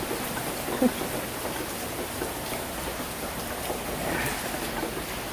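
Rain falling steadily with a constant hiss, a single sharper drip or tap early on, and a slightly heavier patch of spatter toward the end.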